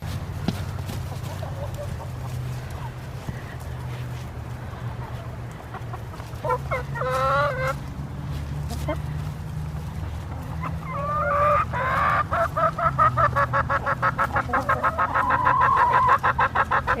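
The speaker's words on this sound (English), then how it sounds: "Now have fun watching these adorable chickens." Chickens clucking close by over a low background hum, sparse at first and building into rapid, rhythmic, repeated clucks toward the end.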